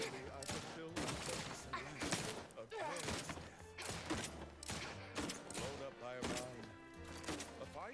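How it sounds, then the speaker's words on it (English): Gunfire in the sci-fi game The Outer Worlds 2, rapid repeated shots and thuds in quick bursts mixed with game music and voices talking throughout. "What are you shooting at?"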